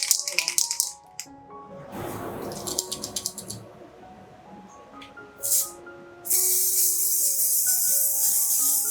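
A spray paint can, used for an acrylic daisy wall-art background, is shaken so its mixing ball rattles in sharp bursts, then a loud, steady spray hiss takes over near the end.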